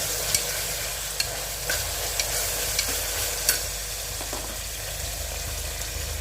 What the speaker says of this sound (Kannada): ಒಂದು 2 ನಿಮಿಷ ಅದನ್ನು ಫ್ರೈ ಮಾಡಬೇಕು.